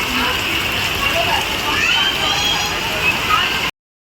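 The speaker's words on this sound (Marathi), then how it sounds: "आणि तुम्ही पाहू शकता जोरदार पाऊस चालू आहे." Heavy rain falls in a dense, steady outdoor hiss that carries on evenly for several seconds before cutting off abruptly.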